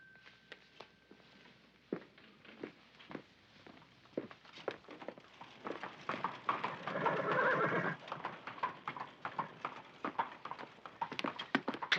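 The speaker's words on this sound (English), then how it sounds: "Closed carriage, Holmes. One man at the reins" A closed horse-drawn carriage with one driver at the reins: sharp clip-clop hoofbeats on a hard street and a loud horse whinny in the middle, the hooves quickening toward the end.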